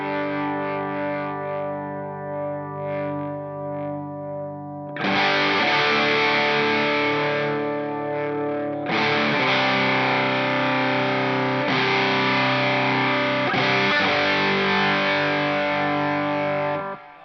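Electric guitar played through dual overdrive pedals: a sustained clean-toned chord rings first, then thick, loud overdriven chords strike and hold in several long blocks, alone.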